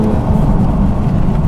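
Toyota Mk5 Supra with a B58 engine and Supersprint decat exhaust, Stage 2 tune, rumbling loudly and steadily at close range, a deep continuous engine drone with no talk over it.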